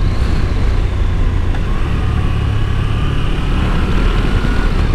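A Moto Guzzi V85 TT motorcycle rides along a road with a steady, loud engine drone and wind rush that stay constant throughout.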